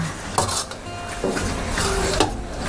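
Pork being stir-fried in a pan for braised egg and pork belly, with a spatula clanking and scraping against the metal over a soft background hiss, a few sharper knocks standing out up close.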